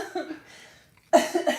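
A person coughs once, then again in a sharp, close double burst after a quiet pause, with a faint breathy sound before it.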